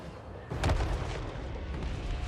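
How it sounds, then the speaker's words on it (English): Cannon fire in a Total War Warhammer 3 battle: a single deep boom lands just past the half-second mark, followed by a lingering rumble under the battlefield din. "Their cannons are hitting me."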